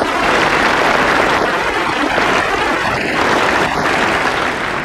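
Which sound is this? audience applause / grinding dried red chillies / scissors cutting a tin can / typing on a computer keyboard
audience applause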